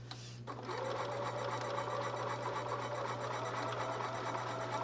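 Sewing machine stitching quilt blocks for a block-of-the-month quilt, starting after a brief quiet moment and then running as a steady, even whir, soft and close, with a low hum underneath.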